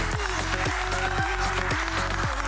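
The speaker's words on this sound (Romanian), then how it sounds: "Priviți, admirați, aplaudați." An audience applauds at a fashion show of dresses made from recycled materials, with steady clapping under pulsing runway music that carries a regular thumping beat.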